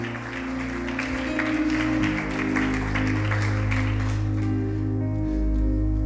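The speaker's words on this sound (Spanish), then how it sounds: "¿Cuántos le dan un fuerte aplauso al Señor?" Church congregation applauds the Lord, steady clapping layered over sustained low musical tones from keyboard or organ, continuous throughout.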